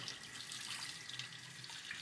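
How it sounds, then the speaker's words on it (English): Running water rinses the body of a Jada diecast model car, a steady close hiss of flowing tap water with no pauses and no voices over it. "So right now, what I'm doing, I'm just rinsing the whole body of the car off."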